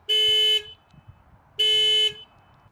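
A 2015 Hyundai Accent GL's horn honks twice in short, loud blasts about a second apart, the pulses of a panic alarm, with quiet background between.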